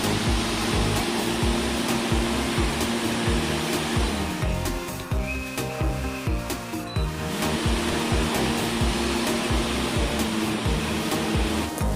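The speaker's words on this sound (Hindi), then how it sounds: "कूलर की नॉइज़ की बात करें तो काफ़ी ज़्यादा है, यानी लाहौरी कूलर जितना या इससे थोड़ा सा कम।" A Super Asia ECM 5000 air cooler runs loud and steady, a continuous broadband fan-and-water whoosh with a low rumble that holds unchanged throughout, alone with no talk.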